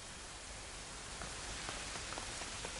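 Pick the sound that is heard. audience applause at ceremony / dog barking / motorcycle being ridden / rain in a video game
rain in a video game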